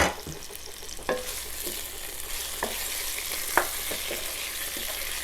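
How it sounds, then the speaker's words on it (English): Pork pieces simmer and sizzle in a pan while a utensil stirs them, giving a soft continuous hiss with several distinct scraping clicks spaced through the clip. "Let me give it a stir."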